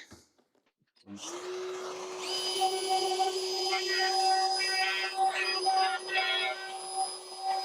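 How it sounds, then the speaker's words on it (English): Plunge router cutting inside a small kitchen door box with dust extraction running, a steady loud whine and hiss starting after a second of quiet, with cutting variations through the middle and end. "I'm going to be obviously plunge routering in this little box. I've got to get rid of the chips really efficiently."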